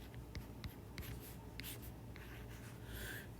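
A pen or chalk scratches out a formula during a physics lecture in short, quiet strokes and taps, close by against a faint room hum.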